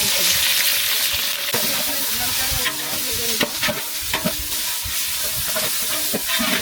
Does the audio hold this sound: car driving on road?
no